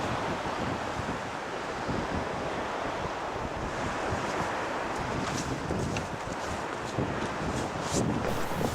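Waves washing onto a beach, a continuous broadband roar of surf close by, with wind buffeting the microphone and no voices.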